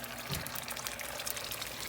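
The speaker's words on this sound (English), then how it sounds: "So you're gonna get your tomatoes in there. These are the whole tomatoes." Canned whole tomatoes pour from the can into a pot of simmering marinara sauce, a short wet glugging splash close by that runs for about two seconds with no talking.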